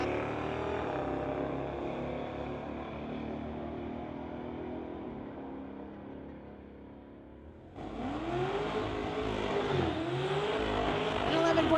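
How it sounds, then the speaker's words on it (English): Cars drag racing side by side at Mission Speedway, street-legal machines such as a '72 Chevelle, engines droning from a distance before a louder launch of revving acceleration, with an announcer talking over it. "Side-by-side racing action here at Mission Speedway."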